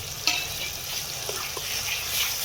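Spices sizzle and crackle steadily in a hot pan, with a few soft stirring scrapes; no one speaks.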